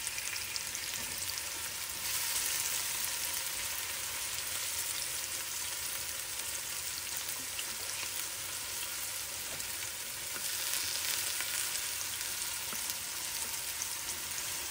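Food browning in a hot pan for mango curry, a continuous close hiss of frying with steady crackle, swelling slightly at times, no voices.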